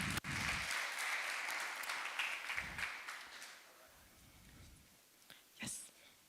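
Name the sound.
audience applause welcoming a speaker on stage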